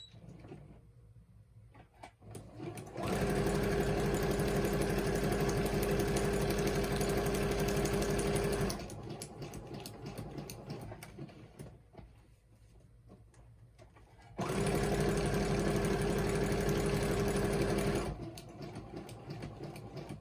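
A sewing machine stitches zigzag on envelopes in two steady bursts of whirring running, each several seconds long, separated by a quieter pause with faint handling noise.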